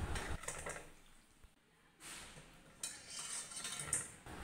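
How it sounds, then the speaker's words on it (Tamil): Freshly fried besan murukku is lifted out of hot oil, drained and moved into another vessel. There are faint clinks and scrapes of metal utensils against pots, with short pauses between them and no talking. "எண்ணெய் நல்லா வடிச்சிட்டு நம்ம வேறு பாத்திரத்துக்கு மாற்றிக்கலாம்."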